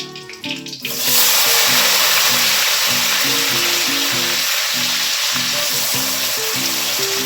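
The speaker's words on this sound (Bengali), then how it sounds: "সবার আগে আমি কাজু কিশমিশটা ভেজে নেব।" Cashews and raisins hit hot oil in a wok, bursting into a loud, dense, continuous sizzle after a brief quieter moment, with faint background music and no speech.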